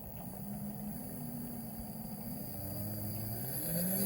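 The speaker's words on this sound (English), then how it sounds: "let's show you the windmill motor" A small model windmill motor, set to a reduced speed, runs with a steady electric whine and faint hum whose pitch slowly rises and grows a little louder, heard close and alone.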